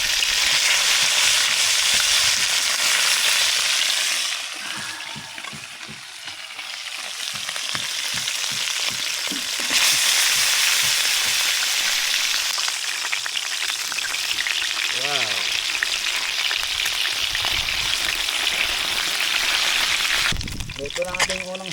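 Freshly caught fish frying in hot oil on an island gives a loud, steady sizzle and crackle from start to finish, easing briefly as the pieces go in, with a voice heard now and then.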